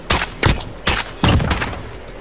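Gunfire in Call of Duty Modern Warfare Search and Destroy, several loud close bursts of shots in an uneven rhythm, each sharp crack trailing off, with no voices over it.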